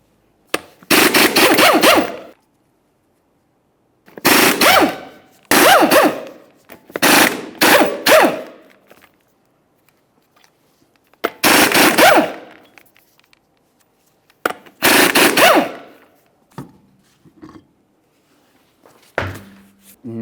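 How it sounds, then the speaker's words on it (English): Impact wrench removing 19mm lug nuts from a Chevrolet Trailblazer wheel: a series of loud, close rattling bursts of varying length separated by silent pauses, with a few short weaker bursts near the end. "remove all 6 of your 19mm lug nuts and then the wheel"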